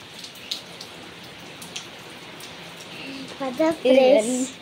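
Heavy rain falls steadily as a soft, even hiss. A voice rises briefly near the end.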